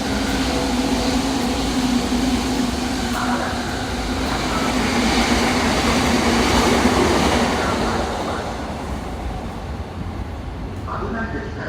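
A Sobu rapid line train sits at the platform at Ichikawa Station, with a steady hum, air conditioning noise and faint rail clatter under a continuous station ambience. Distant announcements can be heard.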